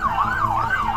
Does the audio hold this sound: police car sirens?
yes